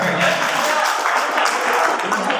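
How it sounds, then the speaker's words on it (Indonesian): Applause breaks out at a school staff meeting, a steady wash of many hands clapping together for a couple of seconds, loud and continuous with no pause. "Tepuk tangan dong."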